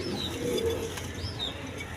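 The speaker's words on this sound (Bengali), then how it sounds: "এখানে এক পেয়ার কবুতর আছে, দেখেন কোয়ালিটি ফুল কবুতর, ডিম নিয়ে বসে রয়েছে" A pair of pigeons on a Bangladeshi pigeon farm, sitting on their eggs, give soft low cooing calls over a steady hum of farm background noise, with no one talking.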